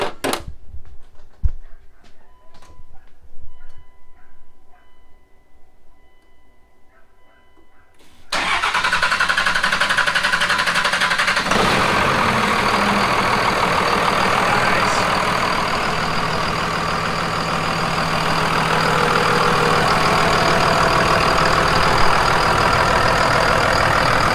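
A 12-valve Cummins diesel engine, freshly adjusted for valve lash, cranks and fires about a third of the way in, then settles into a loud, steady, close running rumble that continues to the end.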